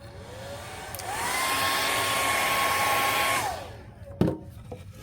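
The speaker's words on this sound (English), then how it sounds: "So I'm gonna just lightly dry this again." Hair dryer blowing over a freshly painted wooden garden flag, switching on with a rising whine, running loud and steady for about two seconds, then winding down, followed by a sharp clatter.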